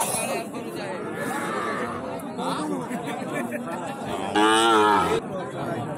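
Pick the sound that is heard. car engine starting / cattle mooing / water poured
cattle mooing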